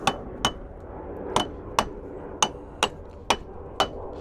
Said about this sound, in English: might need a couple of love taps, but just be gentle if you haven't got a soft blow hammer